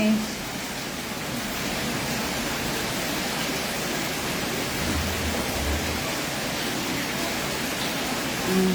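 Heavy, unrelenting rain pours down during typhoon flooding in Montalban, Rizal, a dense steady wash of noise that stays even and loud throughout without letting up.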